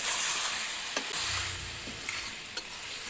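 Food frying in oil over a clay stove, a constant close sizzle broken by occasional scrapes and clicks of a stirring spoon.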